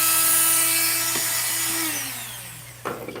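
Electric sander working on a barrel, a high whine that winds down and fades over a few seconds, followed by a brief clatter near the end.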